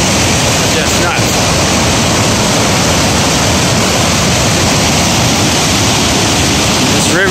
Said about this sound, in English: glacier water melting